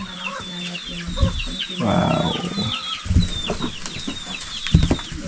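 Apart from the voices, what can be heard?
chicken clucking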